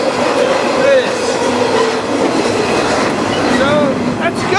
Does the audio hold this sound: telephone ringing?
no